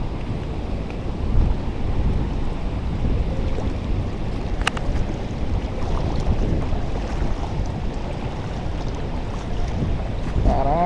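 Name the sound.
waterfall, Cachoeira do Curuá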